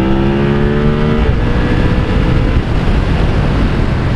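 A 2020 BMW F 900 R motorcycle in dynamic riding mode accelerates hard in second gear, its loud engine note climbing steadily, then continuing as a dense, roaring drone close by with no talk.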